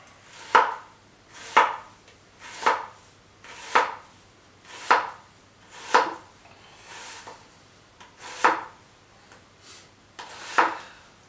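A Yakut knife chopping onion on a board, about ten separate crisp cuts in a slow, steady rhythm, close and clear with quiet gaps between strokes and no talk.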